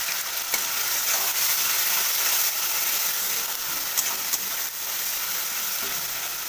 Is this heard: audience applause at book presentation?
no